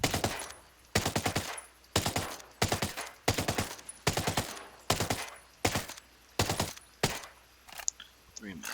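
Assault rifle fire in Ghost Recon Breakpoint: repeated loud bursts of rapid automatic shots, each burst about half a second long, separated by brief pauses, with ringing decay between them.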